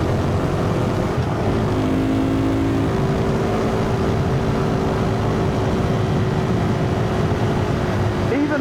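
KTM 390 Duke motorcycle engine cruising steadily in fifth gear at around 100 km/h, a constant drone with a faint whine layered over wind rush, with a rider talking over it throughout.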